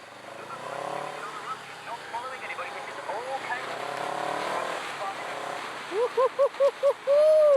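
A 2023 CFMoto 700 CL-X Sport motorcycle with an 8000 rpm redline, heard while being ridden: steady wind rush and engine drone, then a series of short rising revs ending in a sustained high rev near the end.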